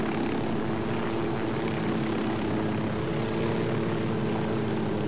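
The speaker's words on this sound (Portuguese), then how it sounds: "Tá, vamos pousar o helicóptero." Helicopter in Ghost Recon Wildlands flying low and setting down near a small dump, a loud, continuous rotor and engine drone that stays steady and close for the whole stretch, with no voices.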